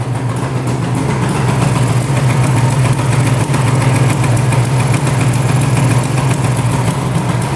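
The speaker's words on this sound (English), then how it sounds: "Idling even." A 1974 two-stroke 750cc motorcycle engine idles steadily up close, with a loud, even low drone and rapid buzzing pulses throughout, no voices.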